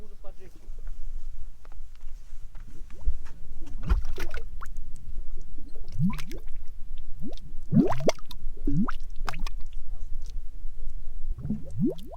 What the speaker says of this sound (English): Mud bubbling up.